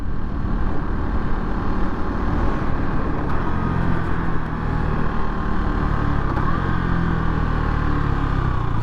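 A motorcycle engine drones steadily in fifth gear on the road, loud and close with wind rush, its uneven jerky running not clearly distinct in the constant roar.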